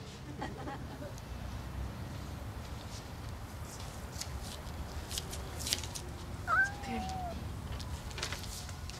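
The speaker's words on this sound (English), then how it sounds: "This is a cat." A cat gives a single short meow partway through, faint and brief against a steady hum of room noise.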